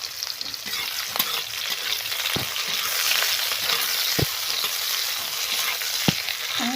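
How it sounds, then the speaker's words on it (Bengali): Bitter gourd pieces frying in hot oil make a steady, close sizzle that runs without a break, with a few sharp pops and clicks scattered through it. "এবার আমি উচ্ছেগুলো ভেজে নেব"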